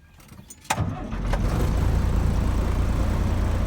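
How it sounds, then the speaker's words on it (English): A truck's diesel engine cranks briefly, catches with a sharp burst, then settles into a loud, steady, rumbling run close by. "we're gonna start the engine"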